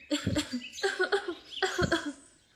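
A woman coughs three times in quick succession, harsh and close, with no talking around the coughs.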